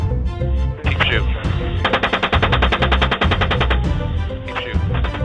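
Machine gun fire in recorded conflict footage, long rapid bursts of sharp repeated shots, loud and close, with voices talking in between.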